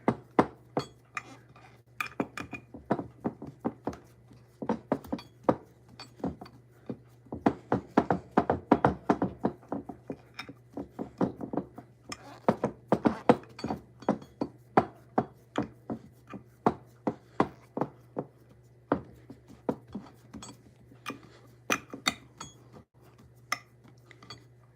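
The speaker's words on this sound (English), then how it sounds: "I'm gonna use my hands to kind of pack this down in here, because we wanna have a really good crust" A crust mixture is pressed down into a dish by hand, giving a long series of soft, close, irregular taps and knocks against the dish with faint clinks and no talking.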